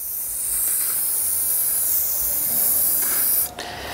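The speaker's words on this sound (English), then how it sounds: "Practically just come along, spray the front wheel, and just get a nice coat on it." Maxima SC1 cleaner hisses from an aerosol can in a steady close spray as it is coated onto a motorcycle's front wheel, lasting about three and a half seconds before cutting off.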